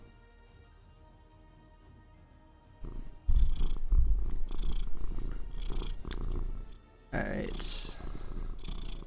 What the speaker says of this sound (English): I have a cat on my lap.